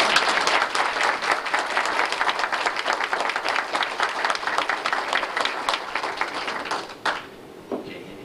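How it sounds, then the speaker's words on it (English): A reunion crowd gives a sustained round of applause for 1992 Big Spring High School's 50th reunion, dense steady clapping that fills the room loudly before tapering off near the end. "Let's give all of these a big hand and a round of applause."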